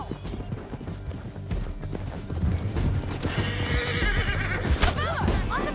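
In Red Dead Redemption 2, horses gallop with quick hoofbeats while one neighs loudly and another whinnies later, all under gameplay sounds and voices.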